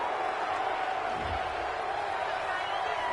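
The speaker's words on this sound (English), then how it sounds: "Well, this crowd does not like that call." A stadium crowd in a football video game reacts to a penalty call with a steady roar of broad noise, loud and continuous throughout, with a low thump partway through.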